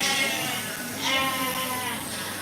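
Several sheep bleat in overlapping calls at a flock and fiber festival, a steady wavering chorus from a flock moving nearby, with a louder bleat rising near the middle.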